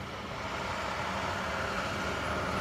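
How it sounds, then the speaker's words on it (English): A school bus driving past, a steady, fairly loud broadband rumble and road roar that holds for a few seconds with no talking over it. "a school bus is going to drive past"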